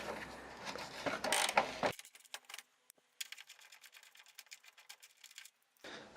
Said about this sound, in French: Donc là je vais défaire les deux écrous